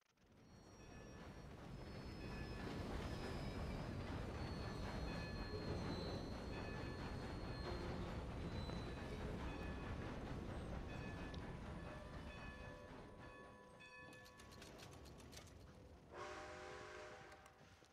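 A train in Red Dead Redemption 2 rolls along the tracks with a loud, steady rumble and clatter of wheels for most of the stretch, then fades and gives way to brief chimes and a horn-like tone near the end.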